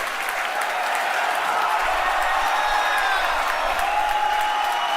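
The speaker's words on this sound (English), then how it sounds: "You can hear our crowd going wild" A large outdoor crowd at the Falcon Heavy launch roars and applauds after all three boosters land, a dense, steady wall of clapping and cheering with shrill whistles rising above it throughout.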